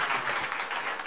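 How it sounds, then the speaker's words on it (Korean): A Korean talk show audience breaks into applause, a brief burst of dense clapping lasting about a second. "박수 한번 주세요."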